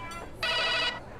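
A mobile phone rings indoors in a Telugu short film. Its electronic ringtone gives two short chirps, then one louder sustained tone, then starts again at the end, with nothing else heard.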